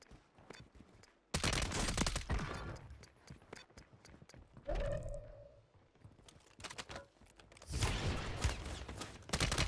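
Rapid bursts of gunfire from Call of Duty MW3 Warzone, loud sustained volleys interleaved with sharper single shots and brief pauses, heavy and close throughout with no talking.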